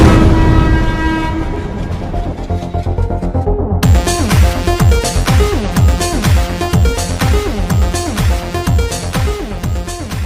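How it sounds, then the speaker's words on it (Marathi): A train bound for Palghar pulls in, sounding its horn in long sustained tones before giving way to loud, steady rhythmic wheel clatter over the rails, with no talking. "पालघरला जाणारी ट्रेन आली"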